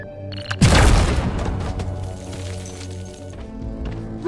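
A big explosion in the video game Deep Rock Galactic, a sudden deep boom that swells loudly and then rumbles on with a long ringing tail under steady game noise.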